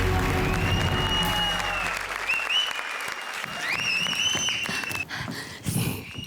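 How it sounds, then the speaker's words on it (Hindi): Studio audience applause on a televised comedy show, loud, dense clapping that fades toward the end, with a few shouts and whoops on top. "जोरदार तालियां"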